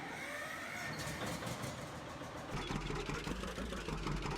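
A John Deere 620 tractor engine in Farming Simulator 19, pulling a forage box, runs at a steady low rumble that thickens and grows louder partway through, with no talk over it.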